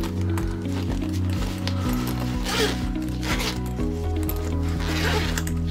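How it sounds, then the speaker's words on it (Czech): Zipper on a travel cable organizer, pulled open in several short rasping strokes close up, with a low steady hum running underneath. "Ty zipy jdou hezky"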